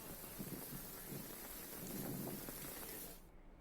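Heavy rain pours steadily in a windy thunderstorm, a dense hiss with low rolling rumbles beneath it, swelling slightly before cutting off abruptly near the end.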